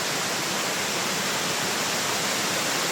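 Steady, dense rushing water roars without pause, a broad constant wash like a waterfall heard up close, at Panas Falls in New Corella, Davao del Norte.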